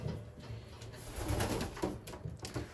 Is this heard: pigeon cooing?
yes